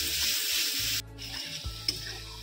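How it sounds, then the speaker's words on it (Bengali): Tomato puree cooking down with spices in a pan while being stirred, a close sizzle with scraping stir sounds that briefly drops away, then returns with a sharp clank. "টমেটো পিউরিটা দিয়ে দেবো। এটাকেও আমি এবার কষিয়ে নেব।"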